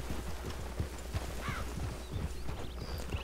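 Horse hooves clip-clopping at a steady walking pace in the Red Dead Redemption 2 video game, with a rhythmic patter over a constant low background hum.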